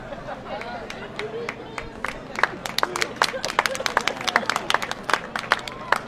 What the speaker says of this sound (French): si on commence à m'applaudir quand je bois de l'eau